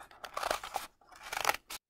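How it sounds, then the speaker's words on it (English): Scissors snip through a stack of paper circles up close, two bursts of crisp crunchy cutting strokes separated by a short pause, ending with a final snip. "cut out that circle to hold the paper together, and then cut on that line"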